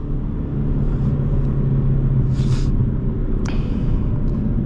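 A 2018 Ford Mustang EcoBoost with the Black Accent Package accelerates with a steady, loud engine rumble heard from inside the car, joined by a couple of brief higher sounds, with no talking.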